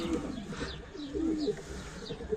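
Soft, low pigeon coos close by, several overlapping throaty calls with faint chirps and a light background hum.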